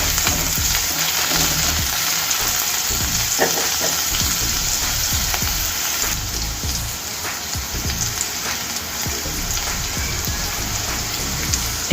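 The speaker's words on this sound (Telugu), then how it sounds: "ఉల్లి కాడలు కొన్ని వేసుకోవాలి. ఇది 1 నిమిషం పాటు మనం దీన్ని వేయించుకోవాలి." Spring onions frying in a pan as the base for fried rice, giving a steady, close, continuous sizzle that crackles and spatters without pause for the full stretch, with a few faint stirring knocks underneath.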